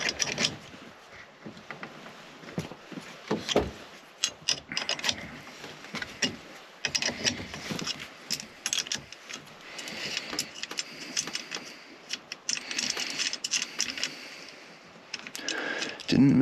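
A nut spins on the steering column bolt of a 1991 GMC Sierra during a column bearing replacement, giving irregular metallic clicks, ticks and rattling scrapes up close, with quieter gaps between bursts.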